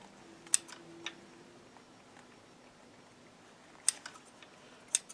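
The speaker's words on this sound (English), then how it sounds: "cut your threads off." Scissors snip loose navy blue sewing threads at a finished double-needle seam, giving a few sharp, quiet clicks spaced apart over a faint background hum.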